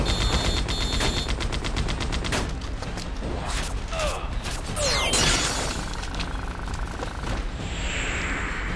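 Loud automatic gunfire in the action game Disaster: Day of Crisis, in a battle on a bridge, with rapid machine-gun bursts, sharp whooshes and mechanical clatter, close and continuous before fading into ringing ambience.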